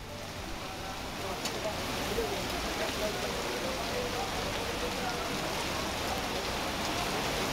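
Rain falls steadily over Hyderabad, a constant wash of drops pattering on surfaces that holds an even, moderate level from start to finish with no voices.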